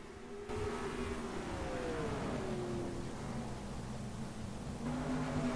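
Race cars in NASCAR Racing 2003 pass by at Kern County, engines droning and whining with pitch sliding downward as the pack sweeps past, steady and moderately loud throughout.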